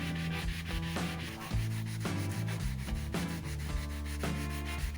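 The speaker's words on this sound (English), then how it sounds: "let's go to the sand block again. Not sure what was that, maybe 80 grit, something like that. Just sanding it by hand." Rhythmic scratchy rubbing of a sanding block with roughly 80-grit paper on wood, repeated back-and-forth strokes at a steady pace, close and fairly quiet.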